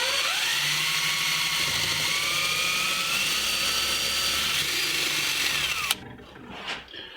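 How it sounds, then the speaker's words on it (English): A power drill pre-drills a hole in a wooden cleat, a loud, steady, high whine that holds for about six seconds and rises slightly in pitch before cutting off abruptly, followed by faint handling noise. "this is where I'm going to drill my hole, or pre-drill my hole"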